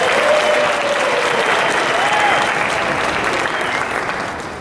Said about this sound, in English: Please give a big round of applause to our 2012 state delegates.